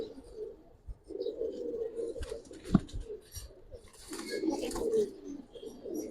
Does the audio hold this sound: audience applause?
no